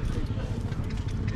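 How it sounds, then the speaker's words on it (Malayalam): Horse hooves clip-clopping in a quick, steady rhythm during a horse ride in Kodaikanal, close and loud under a constant rumble with voices talking. "ഇനി അടുത്ത് നമ്മളൊരു കുതിര സവാരിക്ക് പോവാണ്."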